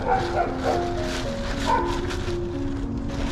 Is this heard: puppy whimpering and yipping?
yes